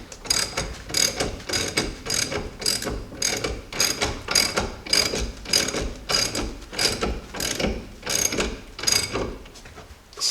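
Repeated ratcheting clicks come from a ball joint press being tightened to seat a new ball joint in a Jeep Dana 30/44 axle. The bursts are steady and rhythmic, close and fairly loud, with no talking.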